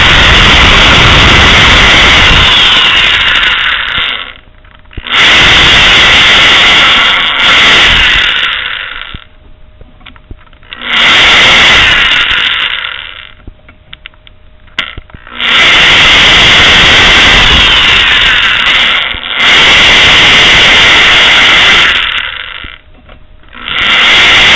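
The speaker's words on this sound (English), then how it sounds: "I'm going to drill into the threads." A drill bit chamfers the edges of threaded bolt holes, cutting out a thread or two in loud, steady grinding bursts of several seconds each, separated by short pauses, with no talking.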